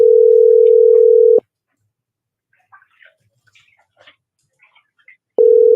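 Telephone ringback tone on an unanswered call, a long steady buzz near the start and another returning at the end, separated by a quiet gap with faint scattered noises.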